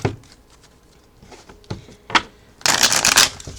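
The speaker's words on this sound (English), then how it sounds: "One more shuffle." Tarot cards are shuffled up close. A few scattered taps and soft slides lead into a dense, loud riffling burst near the end that lasts about a second before easing off. No one speaks.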